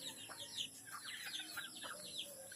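Chickens settle to roost at dusk on a farm, giving faint, scattered clucks and soft chirps against a quiet rural background.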